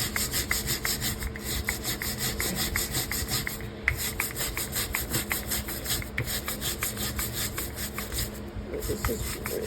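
A knife scraping caked gunk off a cast iron grill pan in rapid repeated rasping strokes, close and steady throughout, with a slightly louder scrape midway; no talking.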